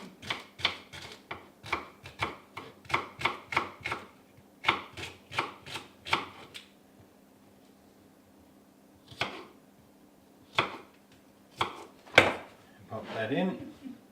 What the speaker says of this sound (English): You can cut the celery, it's quicker.